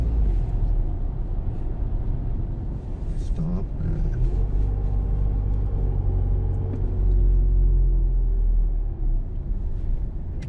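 An Isuzu MU-X with the 3.0-litre engine accelerates out of a curve, giving a steady low rumbling drone that runs the whole way under someone talking.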